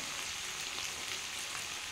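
Vegetables with tomato frying in a pan, a steady close sizzle with soft crackle and occasional stirring throughout, no voices.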